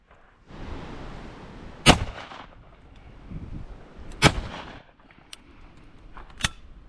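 Three loud shotgun blasts ring out while decoying pigeons, a double shot near 1.9 and 4.3 seconds and a third near the end, each a sharp bang with a short rolling tail over a steady outdoor background.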